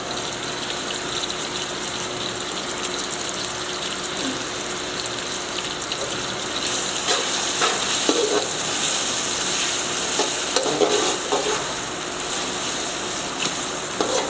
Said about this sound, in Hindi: टमाटरों का पानी खुश्क होने तक पका लेंगे।